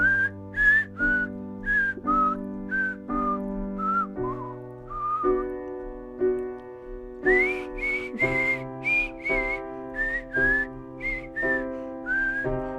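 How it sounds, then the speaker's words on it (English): Someone whistles a clear melody in short repeated phrases over a sustained piano accompaniment, the tune rising higher in the second half. "the instrumental or the whistling section"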